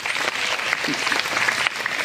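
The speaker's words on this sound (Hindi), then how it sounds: "देखो बज रही है ताली" Students at a cantonment board high school in Varanasi clap together, a dense and lively round of applause, fairly close, with faint voices mixed in.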